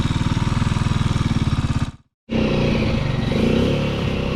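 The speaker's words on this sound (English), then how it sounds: "So Mitch is just warming up their more off-road oriented bike." An off-road motorcycle with a carbureted engine and knobby tires warms up, its loud, steady pulsing rumble cutting out briefly before resuming and rising in a throaty rev.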